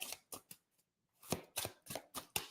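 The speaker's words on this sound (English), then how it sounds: "Let's shuffle this deck." Tarot cards being shuffled by hand: a run of short crisp riffling bursts, a brief pause, then another rapid series of snappy shuffles, close and fairly quiet with no talking.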